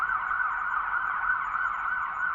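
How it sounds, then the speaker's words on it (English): An emergency vehicle siren wails in a steady, smooth rise-and-fall tone, clear and alone with no other sounds around it. "we heard sirens and saw flashing lights outside"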